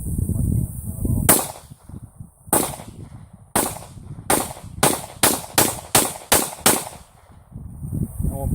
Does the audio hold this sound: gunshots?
yes